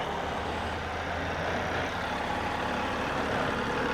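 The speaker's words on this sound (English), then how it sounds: "let's give you guys an exhaust note" An MV Agusta Brutale 800RR with an inline triple engine, warmed up and idling, gives a steady, low, rumbling exhaust drone at a constant level with no revs.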